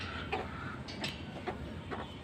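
Young chickens on a rooftop give several short clucks, moderately near and spaced through a steady low background hum, with no voices.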